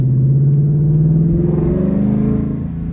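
A 2024 Ford Mustang GT V8 fitted with a Roush X-pipe rumbles deep and loud, holding a steady throaty drone that rises slightly in pitch and then eases off toward the end.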